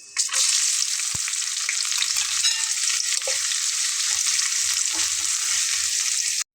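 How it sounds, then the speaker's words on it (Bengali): Onions frying in a pan with spices such as chili and bay leaf, part of a potato and tripe bhuna, make a loud, steady hiss of sizzling oil broken by soft scrapes and knocks from stirring. "মশলাটা একটু নেড়ে চেড়ে নিয়ে আমি ভেতরে পেঁয়াজগুলো দিয়ে নিচ্ছি"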